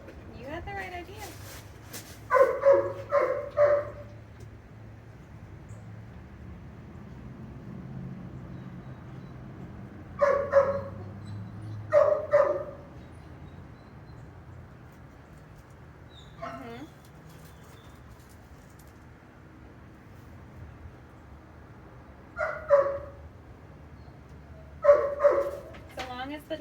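A driven working dog barks in short bursts of two or three, recurring every several seconds at moderate distance, with a low hum of background noise in between.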